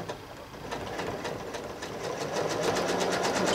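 A sewing machine echo-stitching a quilt runs at a steady, rapid mechanical chatter with evenly spaced needle strokes. It speeds up slightly toward the end and is heard close and alone.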